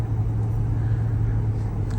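A 2008 Ford F-350 pickup cruising at 40, heard from inside as a steady low engine and road drone with no breaks.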